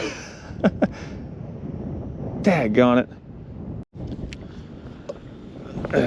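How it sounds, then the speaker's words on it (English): Blustery 40-mile-an-hour wind gusts buffet the microphone with a constant roar during winter fishing in Ohio, while a man briefly mutters and a reel or line whirs in the middle. "They said 40-mile-an-hour wind gusts today"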